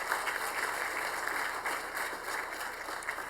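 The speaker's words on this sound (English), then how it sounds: "Okay, so that's a lot of clapping." Audience applause at a Century College Foundation event, a dense, steady roar of many hands clapping together, sustained evenly throughout without a break, heard from within the room with no voices over it.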